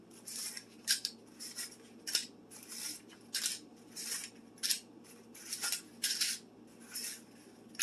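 Paper muffin liners are dropped one by one into a 12-cup muffin tin, making a steady series of light, crisp rustles and soft metallic taps at close range.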